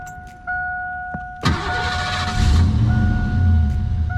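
A stock-exhaust Ford Mustang 5.0 Foxbody convertible with 70K miles cranks over with chime tones ringing, then catches and settles into a loud, close, rumbling idle with no talk.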